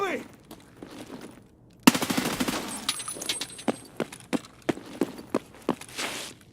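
M4A1 rifle fire in the Escape From Tarkov video game: a dense automatic burst rattles out, then single and paired shots crack at irregular intervals, loud and close with no talk over them.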